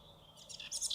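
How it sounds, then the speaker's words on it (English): A spotted towhee's song plays back from a recording, a brief bright trill rising in loudness near the end after a faint lead-in, with no voices. "And there's a spotted towhee you can hear."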